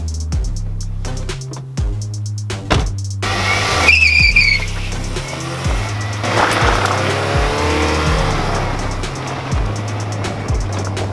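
A car on a fast test drive, its engine rising and dropping through repeated gear shifts with rhythmic revving, then a brief high squeal and a rushing, rumbling stretch as it speeds along, loud and close.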